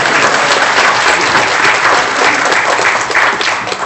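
A church congregation applauds during a Sunday service, a dense, loud wash of clapping from many hands that carries on steadily for a few seconds.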